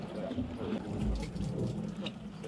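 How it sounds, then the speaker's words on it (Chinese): Low thunder rumbles continuously beneath steady rainfall outdoors at a fishing spot during a downpour, a dull, rolling roar with no clear individual cracks. "上面就轰轰轰的在打雷啊"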